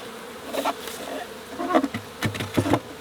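Honeybees buzz around a beehive in the background, a steady hum broken by soft knocks and handling sounds close by.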